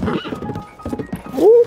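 A horse neighs in Zelda: Tears of the Kingdom, a short rising whinny at the end that follows a second of rough, mixed game noise, loud and close.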